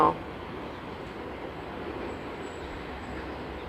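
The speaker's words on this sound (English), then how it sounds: "We have long trains here." A long train rumbles steadily past outdoors, a continuous broadband roar of rail cars that holds at an even level throughout with no break.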